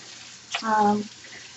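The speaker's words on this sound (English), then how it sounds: "So you want to keep rinsing." A short gush of running tap water rinsing tie-dyed fabric, rising briefly then fading to faint room tone, close by with no speech.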